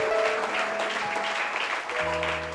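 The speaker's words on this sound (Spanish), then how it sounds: "Dele un aplauso fuerte al Señor." A church congregation applauds during a worship service, a steady mass of clapping heard over sustained musical tones that shift partway through.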